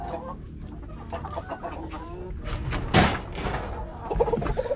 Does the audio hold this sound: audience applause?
no